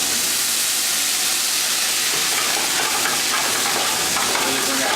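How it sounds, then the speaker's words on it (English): A hot pan sizzles as white wine is poured in to deglaze it, giving a loud, steady, broad hiss that holds evenly throughout. "You deglaze a little white wine."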